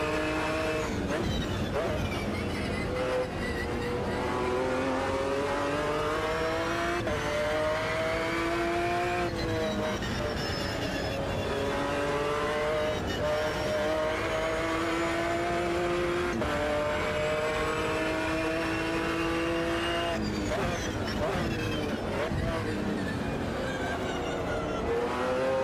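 Race car engine in the sim racing game Automobilista 2, a continuous loud drone with rising and falling revs through gear changes, tire noise underneath, and someone talking over it.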